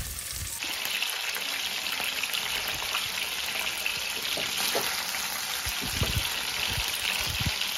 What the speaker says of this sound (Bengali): তেল গরম হয়ে এলে আমি কিন্তু মাছগুলো একটা একটা করে এইভাবে ছেড়ে দিচ্ছি এইভাবে মাছগুলোকে আমি কিন্তু ভেজে নেব